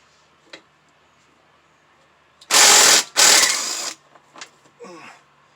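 A ratchet wrench works a 3/8 bolt on the underside of a 6.75 hp Troy-Bilt self-propelled mower: two loud, close bursts of rapid clicking, with a few fainter knocks and scrapes before and after.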